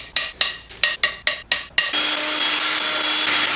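A ratchet clicks off 10mm 12-point bolts on an Audi S4 B9 3.0T V6 during an engine teardown: seven quick, evenly spaced ratcheting bursts, followed by a steady high-pitched mechanical whine, close and loud.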